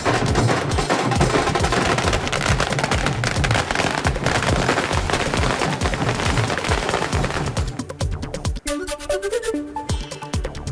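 Dense, continuous crackling and booming of fireworks going off in rapid bursts at a celebration in Thane, loud and close, with a few sharper pops near the end.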